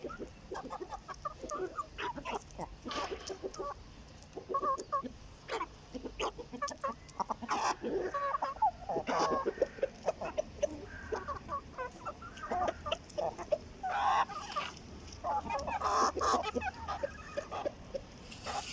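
Hens cluck and chatter in short, scattered bursts at a moderate distance, with a red Hint breed rooster's calls mixed in and faint voices now and then.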